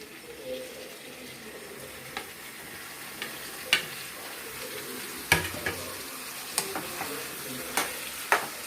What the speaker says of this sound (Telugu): మనం వేగిపోయినాయండి ఉల్లిపాయ, పచ్చిమిరపకాయలు సగానికి బాగా ఎర్రగా అవసరం.